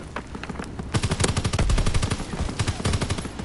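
Rapid automatic gunfire from a war shooter played on PS4, loud and close, in dense rattling bursts that thicken and continue through to the end.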